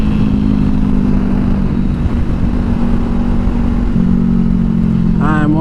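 Honda CBR500R motorcycle engine running nearby at a steady loud idle hum, with someone talking over it throughout.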